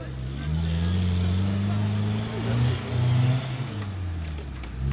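A white Mitsubishi Pajero strains at a bridge-crossing obstacle on an off-road course, its rear right wheel lifting, the engine droning loud and close with rising and falling revs throughout.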